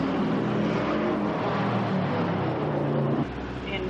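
Corvette race cars roar in Corvette Challenge racing, with a sustained engine drone that drops in level near the end, heard as a somewhat distant, dense track recording.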